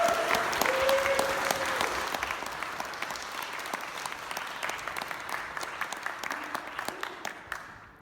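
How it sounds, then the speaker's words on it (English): Audience applause, a dense crackle of many hands clapping that starts strong and slowly fades toward the end, with a faint voice briefly heard early on. "A huge round of applause, please."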